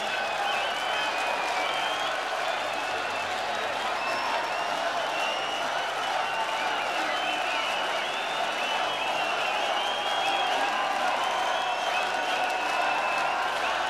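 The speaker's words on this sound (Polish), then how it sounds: "wielkie brawa dla nich" Sustained audience applause with scattered cheering from a crowd at a live open-air festival concert at Woodstock Festival Poland, welcoming a band, dense and steady throughout.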